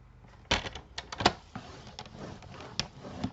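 Paper being cut for a scrapbook album page: a close run of crisp clicks, snips and scraping strokes in an irregular rhythm, with no talking.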